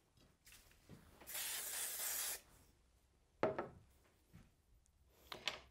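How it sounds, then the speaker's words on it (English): Spray glue hisses from an aerosol can in one soft burst lasting about a second, applied to the back of a piece of white gloss card during card making, with faint handling rustles before and after. "So I'm just going to use a little bit of spray glue on the back of this."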